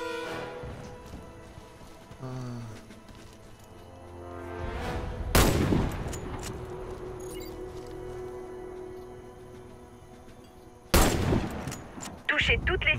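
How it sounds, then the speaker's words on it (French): Sniper rifle fire in the video game Warface on Xbox Series X during target practice, with two sharp loud shots several seconds apart among smaller clicks, mechanical sounds and a rising tone. "Touchez toutes les cibles avec votre fusil de précision."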